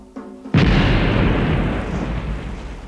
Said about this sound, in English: With modern cannon, they bombarded the home capitals of the shishi in Satsuma and Choshu.